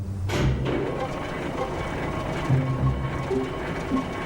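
A motorized Tomy Trackmaster toy train rumbles along plastic track, giving a continuous close rattling hum with bumps and clicks as it runs, heard under a storytelling voice.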